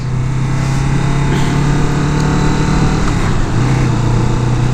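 A new 2017 Kawasaki Vulcan S motorcycle idles while warming up, a loud, steady engine drone close by that dips briefly near the end, with no talking.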